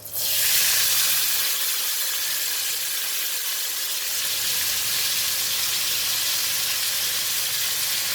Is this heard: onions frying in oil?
yes